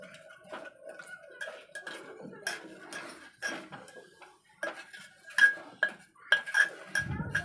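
A spoon stirring spice masala in a metal pan for mutton curry, producing sparse, close clinks and scrapes with quiet gaps between them.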